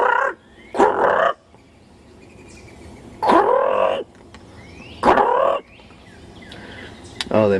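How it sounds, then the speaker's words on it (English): A bird calls loudly three times outside a house in Washington DC in April, each harsh, gobbling burst lasting under a second and separated by quieter background ambience. "Whoa, what's that bird? Did you hear that?"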